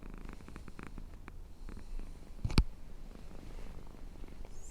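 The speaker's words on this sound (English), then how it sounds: "You can hear her purring." A soft, steady cat purr rumbles close by, with a brief sharp knock partway through.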